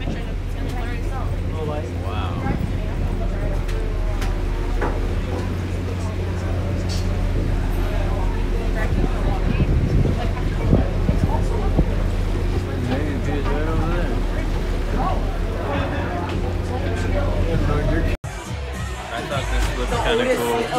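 A boat motor hums steadily under a constant wash of water and background murmur, with people talking over it throughout.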